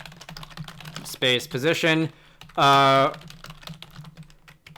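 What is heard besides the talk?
typing on a computer keyboard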